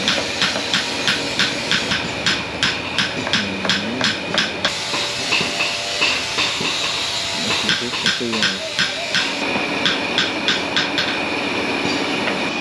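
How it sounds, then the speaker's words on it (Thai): A blacksmith in Myanmar pounds hot iron with a heavy hammer, producing quick, evenly spaced metallic strikes that repeat in a steady rhythm against a busy workshop background, with voices present. "ค้อนนี่เขาหนักมากเลยอ่ะ"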